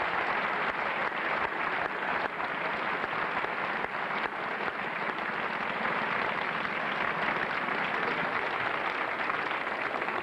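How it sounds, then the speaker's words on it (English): Sustained audience applause at a Tops of the Town show, greeting Roger Byers, holding steady, dense and full for the whole stretch with no break and no voices over it. "Let's have a round of applause, please, for Roger Byers"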